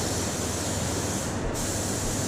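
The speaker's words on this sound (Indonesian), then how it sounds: "Akhirnya saya semprot lagi dari atas baru saya ke bawah" A spray gun lays clear varnish onto a Vespa GTS in a loud, constant close-up hiss, broken by one very brief dip in the middle.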